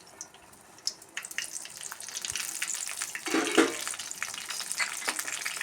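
Mustard seeds pop and splutter in a tablespoon of hot oil in a pan on the stove, a steady crackling sizzle with scattered sharp pops that thicken toward the end.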